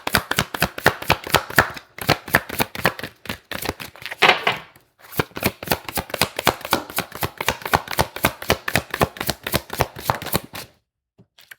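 Tarot cards are shuffled in a steady run of quick, crisp riffling flicks, close and fairly loud, with a couple of brief pauses and no talking.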